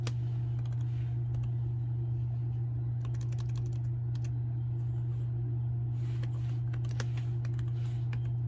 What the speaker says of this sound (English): you're just going to go ahead and type in the folder name there